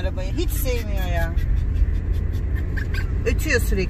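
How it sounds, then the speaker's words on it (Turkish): A small dog in a moving car whines in high, wavering, rising cries over a steady low engine rumble, with a person talking nearby. "Ötüyor sürekli bik bik."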